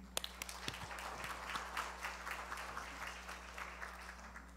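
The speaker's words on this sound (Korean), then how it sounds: "큰 박수 부탁드립니다" An audience at a lecture applauds steadily, with many hands clapping at a moderate distance, a sustained patter of claps without voices.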